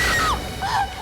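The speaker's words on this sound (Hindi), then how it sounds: "क्या चीखने की आवाज आई?" A woman screams loudly at night during heavy rain, two sliding high-pitched wails in quick succession, close and intense, heard alone.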